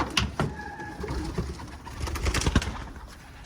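Soft, low cooing of pigeons or doves, close and continuous, with birds rustling and moving about.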